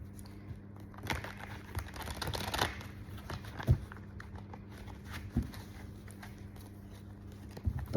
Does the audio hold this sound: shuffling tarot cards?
yes